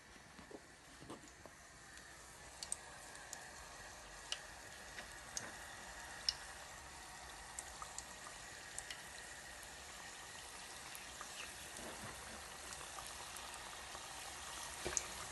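Griwech pastries frying in a litre of hot oil with honey nearby, giving a soft, steady crackle and bubbling with scattered faint ticks and pops throughout, fairly quiet and with no talking.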